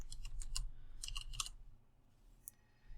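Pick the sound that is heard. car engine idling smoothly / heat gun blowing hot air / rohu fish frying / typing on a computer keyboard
typing on a computer keyboard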